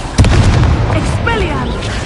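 Incendio fire spell in Hogwarts Legacy, a sharp booming blast at the start trailing into a roaring burst, with voices over it.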